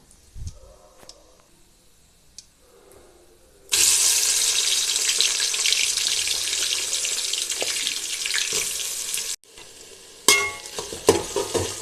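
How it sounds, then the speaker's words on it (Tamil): Onions sautéing in ghee and refined oil with cinnamon and cloves for chicken biryani: a steady, loud frying hiss that starts abruptly partway through and runs for several seconds, with stirring and clatter near the end. "நல்லா வெங்காயம் வதங்கிக்கிட்டு இருக்கு"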